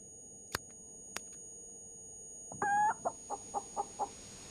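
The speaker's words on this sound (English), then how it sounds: "We've got a chicken." A chicken in the space-survival game Breathedge clucks in a quick run of five or six sharp, rhythmic calls, close and clear, after two faint isolated clicks over a quiet hum.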